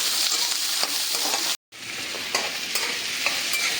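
Onions dropped into a hot pan beside chicken, sizzling and frying steadily while being stirred, with clinks of the spatula, a brief dropout midway, then the crackle continuing.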